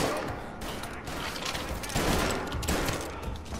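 Dense, sustained gunfire in Mafia Definitive Edition during the Election Day mission, a continuous fusillade of overlapping shots with bursts swelling around the middle and end, no talk.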